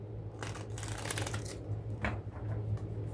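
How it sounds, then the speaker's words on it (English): Tarot cards are shuffled close by in quick riffling bursts, several crisp rushes of flicking card edges separated by short pauses, with no talking. "Let's shuffle the tarot, lay it out"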